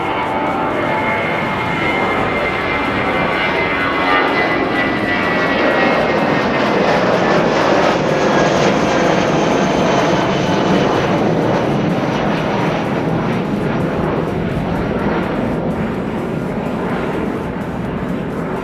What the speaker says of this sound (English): I think he's got a problem with that landing gear. I hope that he's going to be able to get that left landing gear down.